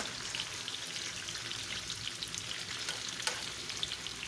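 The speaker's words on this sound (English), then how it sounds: "I like to give them a little flip, just so they're coated in oil and that's less chance of them sticking to my skillet." Home-canned potatoes frying in oil in a skillet, a faint, even crackling sizzle with a few tiny pops, steady and close with no voices.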